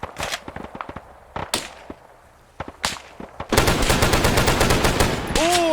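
Video game gunfire: sharp scattered shots at first, then a dense sustained burst of rapid automatic fire, loud and close, ending with a rising whine.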